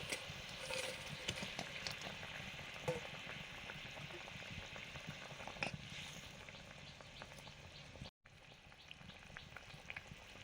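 Fish curry broth bubbling in a pan with pieces of fried fish added, giving a continuous soft sizzle and bubbling close by, with a brief clatter and an instant's dropout partway through.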